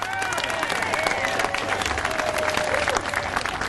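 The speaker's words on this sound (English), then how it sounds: "Give yourselves a round of applause because you deserve it." A crowd at a property tax elimination rally breaks into sustained applause, dense clapping at a steady level throughout, with voices and cheers mixed into the noise.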